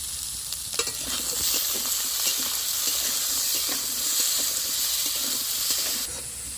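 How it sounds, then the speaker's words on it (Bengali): Potato pieces frying in oil with salt and turmeric, a steady loud sizzle with scattered stirring scrapes throughout, no voices. "আলুতে নুন আর হলুদ দিয়ে আলুটা কষে নিচ্ছি।"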